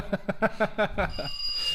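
A home doorbell rings in a quick series of about seven repeated chimes over roughly a second, then a steady electronic tone lingers afterward, moderately loud and close, with no talking over it.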